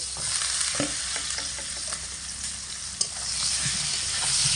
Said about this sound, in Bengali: সব কটা পটলই আমি এখানে একসঙ্গে ভেজে নেব